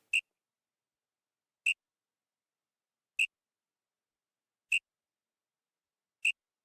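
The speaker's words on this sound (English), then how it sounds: "Then I added a whistle. The whistle is just a straightforward one." A straightforward whistle sample in a soca beat, repeated as five short, high chirps evenly spaced about a second and a half apart, crisp and isolated against silence.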